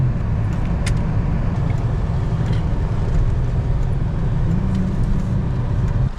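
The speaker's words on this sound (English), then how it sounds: "Just me driving around." Steady in-cabin car road noise while driving, a continuous low engine and tyre rumble with faint occasional ticks, no talking.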